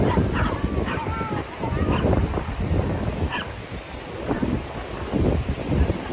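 A dog on White Beach in Boracay gives a few brief yips and barks mixed with whimpers, heard against heavy wind noise and a rushing outdoor background during the rainy habagat season, with a voice speaking faintly.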